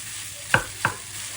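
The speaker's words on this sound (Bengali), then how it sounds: "সাইডে চিকেন ফ্রাই হচ্ছিল" Chicken frying in a pan, with two sharp scrape-and-stir strokes of a utensil over a faint background sizzle, close by and brief.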